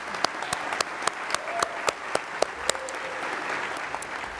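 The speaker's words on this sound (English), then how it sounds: "let's give them a round of applause just for that special gift" Audience applause at a school district education foundation scholarship awards ceremony, a steady wash of many hands clapping with a few sharper individual claps standing out, continuing evenly for several seconds.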